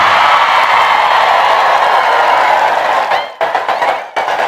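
A big congregation at an outdoor Islamic sermon gives a loud, sustained roar of clapping and cheering that breaks up near the end into choppy bursts.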